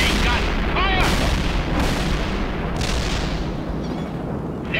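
Sustained artillery barrage in the war game World in Conflict, with dense rolling booms and blasts overlapping continuously at high loudness, with radio-style voices faintly audible beneath the bombardment.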